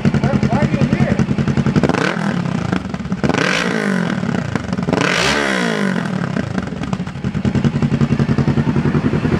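A wrecked and rebuilt 2019 Kawasaki Ninja 650 parallel-twin motorcycle engine idles with a rough, loud rumble, then revs up twice in rising and falling sweeps before settling back to idle.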